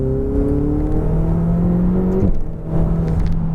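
Ferrari 488 GTB accelerating on a racetrack, a close in-car engine whine rising steadily in pitch before a brief shift dip and renewed pull.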